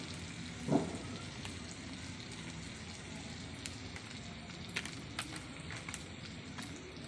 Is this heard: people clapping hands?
no